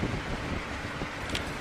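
Gusty wind buffets the microphone outdoors beside a Skystream small wind turbine, a steady roaring rush with a slight swell near the end and no talking.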